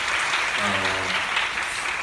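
Audience applause at a Korean stage musical performance, dense clapping that swells and holds for a couple of seconds, with a voice speaking faintly beneath it.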